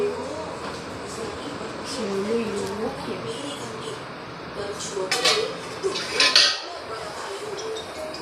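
Light clinks and clatter of utensils and dishes while a store room is cleaned, growing busier toward the end, with a voice speaking and birds chirping in the background.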